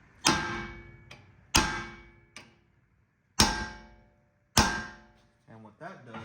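Hammer smacking rusted Phillips screws on Brembo brake caliper hardware of a Honda Element: four sharp ringing metallic blows with lighter taps between, each decaying slowly, followed by brief scraping clatter.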